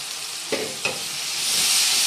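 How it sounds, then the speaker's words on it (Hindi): Masala for baingan mooli sabzi sizzling in a pan, a steady frying hiss with two soft scrapes of stirring, the sizzle swelling toward the end. "बहुत अच्छी तरह ये मसाला भून गया है।"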